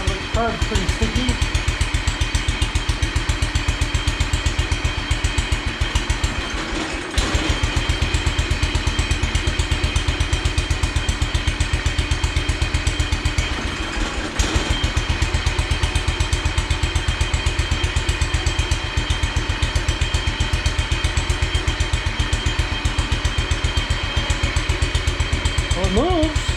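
A John Deere 140 tractor engine with a sticky carburetor runs steadily nearby for the whole stretch, a dense, fast, even throb with two brief dips in level, and a voice can be heard over it.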